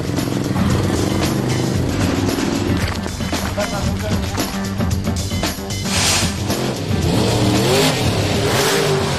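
Loud monster truck engines rev hard at the start of a race, a dense, continuous roar with rising throttle bursts, while a voice talks over the top.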